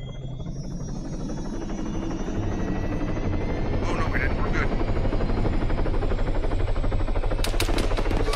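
Helicopter in the ARMA military video game flying close and loud as a steady rotor drone throughout, with gunfire bursts crackling in and people briefly talking over it.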